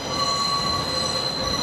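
A train runs through Manchester Piccadilly station on the 09:58 Blackpool North to Manchester Airport service, with loud continuous rolling rumble and high steady wheel squeal throughout, close by.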